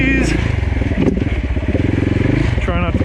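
A dirt bike engine runs hard and close on a wooded trail course, a loud continuous rasping drone with pulsing throttle changes, while a rider talks over it.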